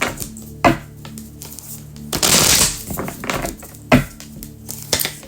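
Tarot cards being shuffled in short bursts: a few sharp riffling snaps and one longer rustling shuffle near the middle, close and fairly loud, with no talking.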